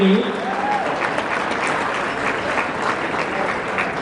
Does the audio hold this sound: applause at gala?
yes